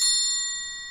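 A triangle is struck once and rings with a bright, sustained metallic shimmer that decays slowly, close and clear with no voices.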